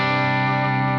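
A Harley Benton electric guitar played through a Quad Cortex clean preset rings out as one sustained chord, bright and even with a shimmering modulated tail, alone for about a second.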